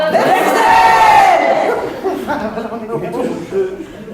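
A live comedy audience shouts the names of their home towns and villages all at once, a loud jumble of overlapping voices that fades into scattered shouts and chatter.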